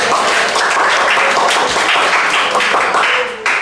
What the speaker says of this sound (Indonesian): Sekali kita berikan tepuk tangan untuk teman-teman saya.